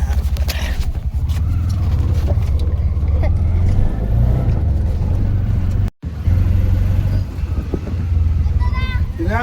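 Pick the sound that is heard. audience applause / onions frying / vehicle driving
vehicle driving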